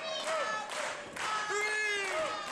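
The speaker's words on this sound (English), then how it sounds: "They are putting their hands together." Wrestling crowd clapping and cheering to rally Matt Hardy during a match, a steady wash of applause with rising voices and whistles throughout.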